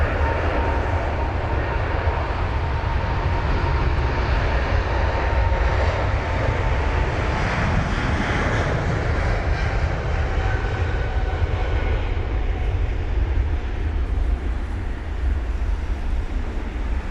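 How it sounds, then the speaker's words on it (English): A Cathay Pacific Boeing 777-300ER departs London Heathrow in wet, spray-filled conditions with a loud, close, sustained engine roar that stays full and constant throughout. "That is the Cathay Pacific 777-300ER with the Reg Bravo Kilo Quebec Kilo."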